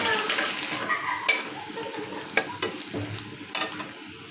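Chopped garlic and dried chillies sizzle steadily in hot oil as a tempering for boiled dal, with a continuous frying hiss broken by a few sharp crackles and spits close by.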